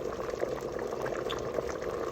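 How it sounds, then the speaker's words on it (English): Tonkotsu ramen broth at a rapid, rolling boil, a steady dense bubbling and gurgling with small pops, close up and moderately quiet, unbroken for the whole stretch with no talking. "You want it bubbling away like that."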